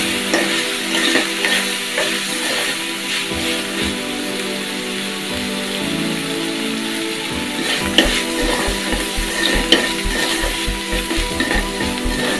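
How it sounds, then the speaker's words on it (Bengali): Turmeric, salt and spices fry in a pan for a Bengali bottle gourd dish, with a continuous close sizzle broken by repeated scraping and stirring strokes of a spatula that grow more rhythmic toward the end. "এগুলো একটু লাল লাল করে ভেজে নিতে হবে।"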